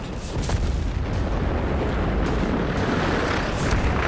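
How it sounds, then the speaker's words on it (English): An incendiary barrage in the World War II strategy game Company of Heroes 3 produces a dense, continuous rumble of overlapping explosions with scattered sharper bursts, steady and loud with no voices. "There we go, incendiary barrage here, trying to keep the Americans away here."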